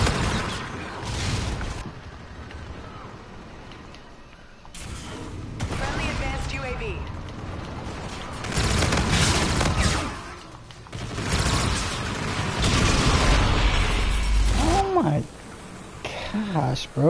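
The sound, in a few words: grenade and stun grenade explosions in a video game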